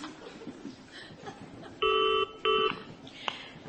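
A telephone is dialed, giving two clear, steady electronic tone bursts in quick succession, followed by a brief click, over a faint room background with no speech.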